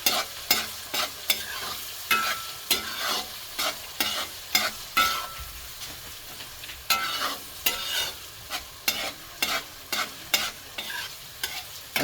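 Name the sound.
rice masala with red chili, turmeric, cardamom sautéing in pot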